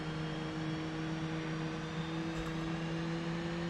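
An F-18 jet in the DCS flight simulator taxis at idle throttle, giving a steady engine whine with a constant low hum and even broadband rush throughout, with no talking.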